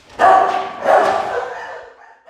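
A dog in an animal shelter for neglected pets in North Iowa barks twice in quick succession, the sharp yelps close and echoing in a hard-walled room before fading.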